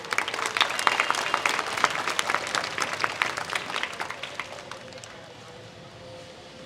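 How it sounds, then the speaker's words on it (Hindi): A crowd applauds at an Independence Day celebration on an open ground in Varanasi, dense clapping that is loud at first, then thins and fades toward the end, leaving a faint hum. "जिनके लिए जोरदार तालियां बजाइए"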